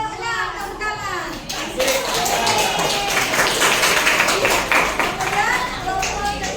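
A classroom of children applauds group 6. After a brief stretch of chatter, dense, steady hand clapping starts and carries on to the end, mixed with children's voices.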